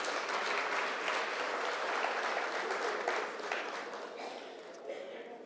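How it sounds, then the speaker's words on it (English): Warm round of applause from an audience at a closing ceremony, dense clapping at moderate distance that fades slightly toward the end. "Please, a warm round of applause."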